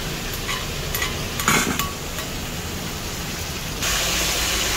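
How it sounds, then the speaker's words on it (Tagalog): Steady frying sizzle from a pan, a broad hiss with a few clinks and stirring scrapes, growing slightly louder near the end. "Ngayon natin magprito"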